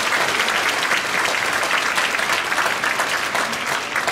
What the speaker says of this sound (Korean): 우리 아이들을 위해서도 한번 박수를 치겠습니다.